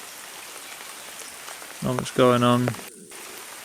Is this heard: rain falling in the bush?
yes